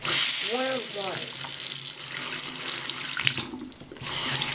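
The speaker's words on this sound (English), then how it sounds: "Now, you turn the faucet on." Water runs steadily from a bathroom faucet into a sink during tooth brushing, a continuous close splashing hiss with a voice talking over it at the start.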